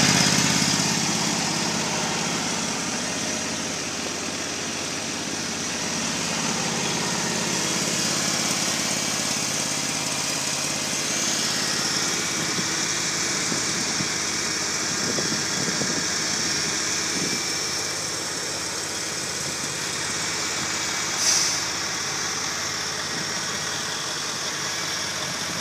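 A gas-powered engine on a house-moving machine runs steadily, a continuous outdoor drone that stays fairly loud and even throughout, with a faint sharp blip near the end.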